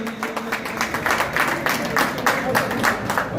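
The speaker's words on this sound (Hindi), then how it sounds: "भरपूर तालियों से इस फोरम की हौसला अफजाई कीजिए।" Crowd applause at the Jhelum Cricket League Season 5 opening ceremony, a dense steady wash of clapping from many hands lasting a few seconds with a faint voice underneath.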